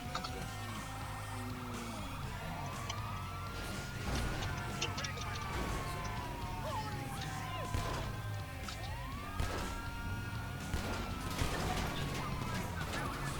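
A wailing police siren sweeps up and down under ongoing Grand Theft Auto 5 game sounds and scattered impacts, with people talking over it.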